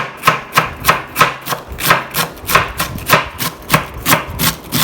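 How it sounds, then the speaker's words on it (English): Cabbage is chopped roughly into long strips with a knife on a board, about a dozen crisp, evenly paced cuts, loud and close, with no talking. "This has to be chopped rough and fine."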